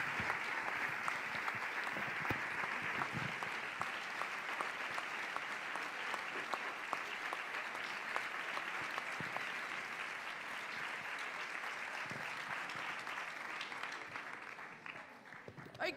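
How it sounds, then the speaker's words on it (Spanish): An audience at a sports gala applauds steadily and loudly for the whole stretch, dense continuous clapping that fades slightly near the end. "Fuerte aplauso, por favor"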